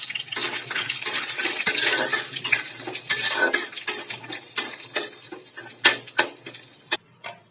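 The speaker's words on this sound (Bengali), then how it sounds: "এই দেখো বড়িটা আমার ভাজা হয়ে গিয়েছে।" Lentil dumplings frying in oil in a home kitchen, a continuous crackling sizzle close by, broken by clattering spoon and pan knocks and sharp ticks.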